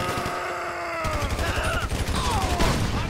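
Rapid bursts of gunfire from GTA 5 Online ring out loud and close, a dense volley of shots with a groaning voice briefly sounding over the start.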